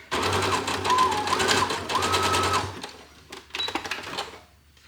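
A sewing machine running a wide zigzag stitch through fabric folded double, a steady close mechanical whir in two bursts of about three seconds, then a shorter stop-start run.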